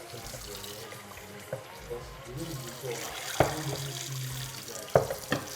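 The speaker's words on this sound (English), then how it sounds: "Okay, so I'm going to rinse the yam." A yam is rinsed under a running kitchen tap, with water splashing steadily into the sink, punctuated by a few sharp knocks and clatters of handling, close up. Someone talks quietly underneath.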